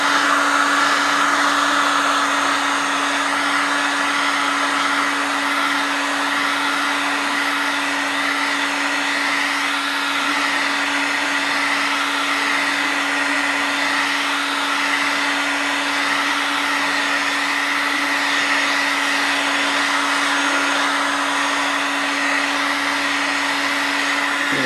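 A heat gun warms a plexiglass side panel on a concours restoration, giving a loud, steady, close blowing whir with a constant electric hum that runs unbroken throughout, with no talk.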